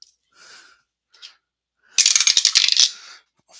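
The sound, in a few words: dice being re-rolled for APBA baseball game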